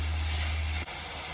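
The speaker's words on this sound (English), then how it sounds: "I am adding some onions to this. With that, I'm also adding some garlic." Onions and garlic frying in a hot pan for a goulash, giving a loud steady hiss and crackle that drops abruptly partway through and then continues slightly softer.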